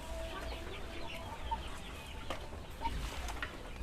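KUB chickens cluck on a farm, scattered soft clucks and short calls over a steady low background hum, moderately distant, with no talking.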